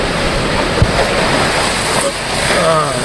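Wind-driven waves surge and spray over a floating EZ Dock in strong west winds, a loud, continuous wash of water with gusting wind noise and a faint voice underneath.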